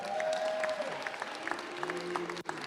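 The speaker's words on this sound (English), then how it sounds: "How about a round of applause for George?" An audience claps together for a few seconds, with scattered crowd noise and a few tonal sounds mixed into the applause.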